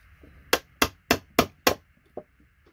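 A hammer striking chisels while scrapping ceramic oscillators: five sharp, evenly spaced metallic cracks close by, then a single softer tap after a short pause.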